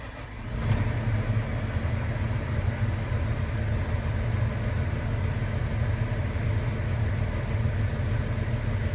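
A Doosan DX380 excavator's diesel engine starts with a short burst and then runs at a steady, loud, even idle, a constant low rumble with no voices.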